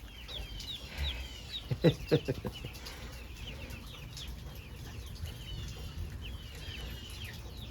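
A young duckling in a brooder gives repeated high, thin peeping calls throughout, with a short cluster of louder, sharper squawks near the start, all close and moderately soft over faint background noise.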